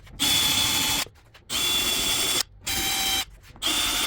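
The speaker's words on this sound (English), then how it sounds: "I need to make the holes slightly bigger" Power drill enlarging screw holes for a Mr2 Spyder TRD replica duckbill spoiler: four loud, close bursts of high whining drilling, each about a second long, separated by short pauses.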